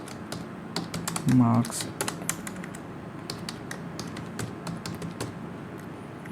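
Someone types marks into a computer keyboard. Quick, uneven key clicks come in short bursts, close and crisp, with a brief spoken word partway through.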